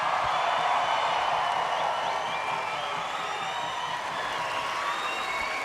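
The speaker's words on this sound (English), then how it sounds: "these two warriors have earned a big round of applause" Applause and crowd noise from an audience at a bare-knuckle boxing fight night in Honolulu, a steady, dense wash of clapping held at an even level for several seconds, with no talk over it.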